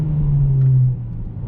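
A 2021 Mercedes-Benz GLB 35 AMG engine hums steadily while driving in normal mode, a deep, even tone that drops slightly toward the end of the short stretch.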